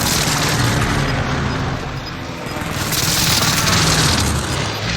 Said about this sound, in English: I'm gonna drop the airstrike up there. I dropped the airstrike.